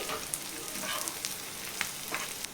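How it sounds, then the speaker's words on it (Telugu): Onion, green chillies and curry leaves frying lightly in oil in a pan, a continuous close sizzle broken by a few quick stirring scrapes, with no voices. "శనగ కట్ చేసుకున్న కరివేపాకు కూడా వేస్తున్నా ఇప్పుడు వీటన్నిటిని లైట్గా ఫ్రై చేసుకోవాలి"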